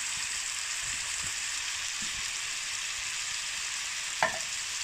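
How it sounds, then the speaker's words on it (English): Ground meat browning in a pot gives a steady, even sizzle with faint stirring scrapes, and near the end a single soft thump sounds as chili beans go in. No one speaks. "as our meat is browning, we're gonna add our chili beans to the pot here."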